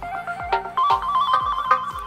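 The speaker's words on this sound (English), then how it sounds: "just set the alarm for 1 minute. It should be ringing any second now." Alarm clock ringing in a Toca Boca video game, a repeating electronic ringtone with steady rapid pulses, loud and alone without talk.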